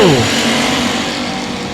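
Race cars roar past at I-37 Speedway on the final lap, with a loud close engine whine dropping in pitch as they pass, then a sustained roar of the field.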